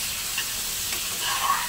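Beef liver and potato chunks sautéing in a hot pan, a steady soft sizzle and frying hiss with faint stirring scrapes throughout, close and continuous with no talk.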